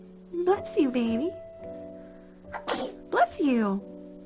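A baby sneezes twice, each a short burst that ends in a high, squeaky tail, separated by a quiet pause.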